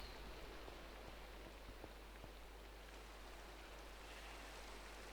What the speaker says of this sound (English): That noise means it's raining.